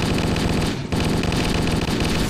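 Rapid, continuous gunfire from a shotgun in Halo: Combat Evolved, a loud dense barrage of blasts filling the whole stretch with only a brief dip partway through.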